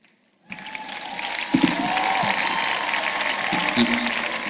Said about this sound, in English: Let's rise as we give the lecturer a round of applause